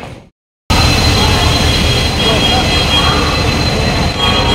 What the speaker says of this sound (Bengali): রাত 12টার সময় ট্রেন চলে এসেছে, হাওড়া আদ্রা বোকারো এক্সপ্রেস